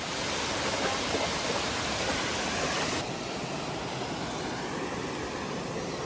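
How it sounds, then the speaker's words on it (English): A waterfall on a hike near a series of pools in Brazil gives a loud, continuous broadband roar, steady throughout, with no voices. "We found waterfall number 1, which is nice."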